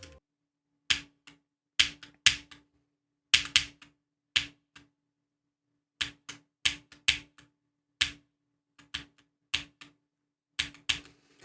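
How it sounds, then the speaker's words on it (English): Sharp, crisp keyboard clicks for Geometry Dash inputs tap out in irregular bursts, single and doubled presses separated by silent gaps, close and fairly loud. "I will use my keyboard so my clicks are louder"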